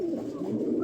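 A single short, soft coo from pigeons at a pigeon farm sounds close to the microphone in a brief low murmur.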